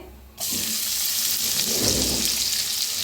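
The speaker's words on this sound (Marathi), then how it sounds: "तेल तापलेलं आहे त्याच्यात टाकूया जिरा" Cumin seeds hit hot oil and break into a loud, steady, close sizzle that begins abruptly and then holds with no letup.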